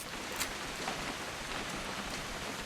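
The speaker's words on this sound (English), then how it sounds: "It's gonna rain the whole weekend, isn't it?" Steady rain in the video game What Remains of Edith Finch hisses and patters on a surface, a dense wash of drops with no voices.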